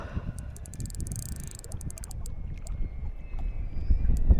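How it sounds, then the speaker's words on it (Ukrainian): A boat motor on open water runs with a steady low rumble and a thin whine above it, its drone building slightly louder toward the end, with wind noise over it. "він починає газувати знову"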